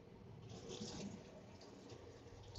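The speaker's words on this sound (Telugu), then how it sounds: "ఆ విధంగా వాటర్ ఫ్లష్ అవుతున్నాయి." Water flushes in a train washroom, a faint, soft rush of liquid running for a couple of seconds in a small space, ending with a short knock.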